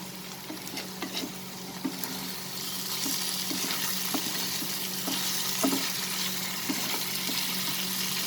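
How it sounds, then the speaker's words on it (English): Green chilies with slits cut in them frying in a pan for a black chickpea chicken fry, a steady close sizzle with occasional stirring clicks and light pops throughout. "Now after sauteing it, I'm going to add the green chilies."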